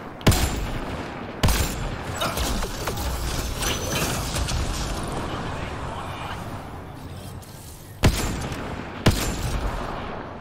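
Weapons fire in Mass Effect Andromeda combat, with sharp loud shots punching out at intervals over continuous dense, noisy battle ambience.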